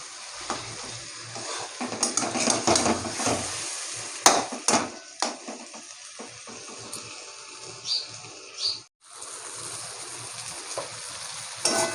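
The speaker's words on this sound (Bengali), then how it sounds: "এই যেখানে আমি মাংসগুলো ভালো করে কষিয়ে নিয়েছি" Large chicken pieces sautéed with spices in a pan, giving uneven sizzling broken by repeated scraping and knocking of a spatula against the pan, with a brief lull near the end.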